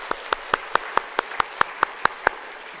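A church congregation claps for the children in unison, about ten sharp, evenly spaced beats at a quick steady tempo with no voices.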